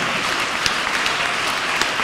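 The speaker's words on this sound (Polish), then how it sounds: "Brawa dla nich." A concert audience at a Christmas carol concert applauds a university choir, a dense, steady wash of clapping from a large crowd heard close and loud throughout.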